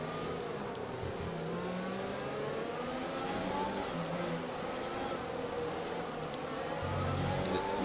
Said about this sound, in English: there comes a Mercedes flying out of the pit lane